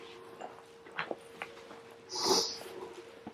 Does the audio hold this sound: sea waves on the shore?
no